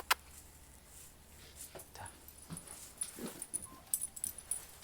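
A dog whimpering and whining softly while being coaxed indoors, with faint jingling, small scuffs and a few sharp rustles nearby; no speech over it.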